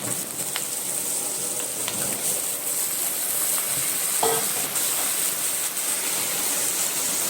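Potatoes frying and being stirred in a pan for a home-cooked potato and fried chicken dish, a steady close sizzle with occasional scraping and stirring knocks, no talking.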